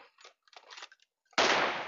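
A sniper rifle shot in PUBG Mobile zombie mode rings out once, loud and sharp, after a few short scattered game noises.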